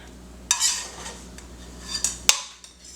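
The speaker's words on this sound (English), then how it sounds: "Fold your omelet in half" A spatula scrapes and taps in a pan while folding a pepper jack and avocado omelet, giving a few quiet scraping swishes and a couple of sharp clinks against a faint background.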